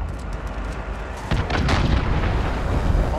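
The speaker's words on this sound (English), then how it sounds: "Enemy cruise missile incoming!" A cruise missile strike in the video game Call of Duty Modern Warfare (2019) Ground War: a dense rumbling battlefield bed that swells into a heavy booming blast with lingering rumble partway through.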